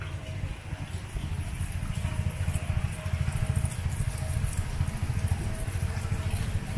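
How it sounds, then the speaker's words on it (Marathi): Heavy rain falls steadily on a Konkan village among rice fields, a dense continuous patter and hiss with no voices. "आता बघा फुल पाऊस चालू आहे"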